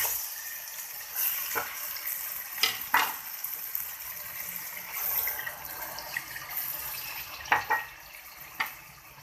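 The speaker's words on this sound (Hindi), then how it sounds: "अब इसके अंदर डालेंगे पानी।" Water poured into frying mash dal, urad lentils sizzling in oil, a hissing liquid rush with scattered sharp splashes and spits, close and without speech.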